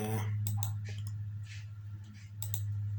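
A computer mouse gives a few sharp, quiet clicks, one at the start and a quick pair near the end, over a low steady hum in a quiet room.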